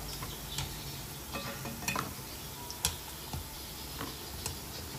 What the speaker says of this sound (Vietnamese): ta chiên vàng cháy sake